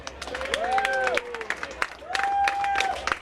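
Crowd at a tiki bar grand opening and ribbon cutting cheering and clapping in a steady burst, with whoops and shouted voices rising over the applause.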